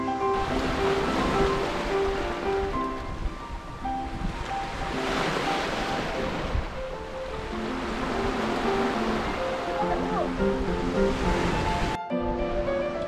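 Ocean surf rolls in continuously along a rocky coastal walking trail near Cheongsapo in Busan, loud and close with steady wind, and the wash cuts off abruptly near the end.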